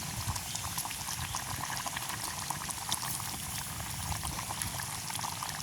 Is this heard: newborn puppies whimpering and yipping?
no